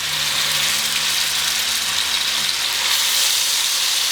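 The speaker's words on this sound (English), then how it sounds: "I'm gonna start throwing some chicken pieces in there. You want to hear that sizzle." Loud, steady sizzling and crackling of chicken pieces frying in hot fat, continuous and close with no voices.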